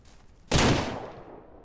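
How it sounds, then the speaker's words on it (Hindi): A single loud gunshot cracks out and rings away while hunting deer in the video game Ranch Simulator, with no talk over it. "अब गोलियां ख़त्म हो जाएंगी तीन गोलियां कुल बची हैं"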